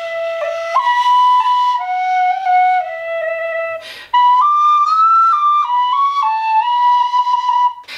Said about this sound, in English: this is a Clarke whistle